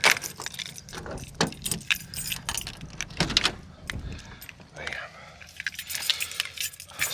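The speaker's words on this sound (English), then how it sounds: "If I can remember which way I got to turn the key," Keys jingle and scrape as they are worked in a van door lock, followed by clicks and the clunk and slide of the van door opening, all close by with someone speaking intermittently.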